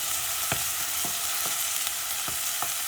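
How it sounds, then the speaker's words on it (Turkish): Chopped onion sautés in a pan as a dense, even sizzle, with a few soft stirring clicks spaced through a short stretch. "Burada Kavuracağım bunu. Birazcık kavrulsun."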